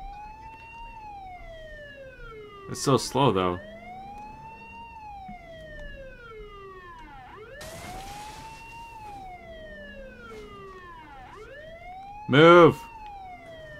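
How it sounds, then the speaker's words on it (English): An ambulance siren in Saints Row: The Third wails, sweeping slowly up and down continuously, with a person speaking briefly over it twice and a short burst of noise between. "Jeez, listen to the siren."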